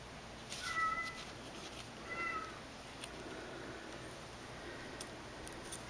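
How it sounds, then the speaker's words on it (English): A faint kitten mews two or three times in the background, thin and high-pitched, over a quiet room hiss. "I don't know if you do hear the kitten meowing"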